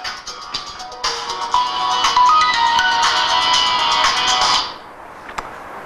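A mobile phone ringtone plays loudly and close in a classroom, a steady bright electronic melody lasting several seconds before cutting off abruptly, followed by faint room noise.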